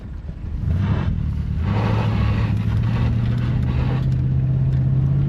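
A 1975 Chrysler Cordoba engine running while driving, a steady low droning hum that rises in pitch as the car picks up speed, loud and close, with road and wind noise.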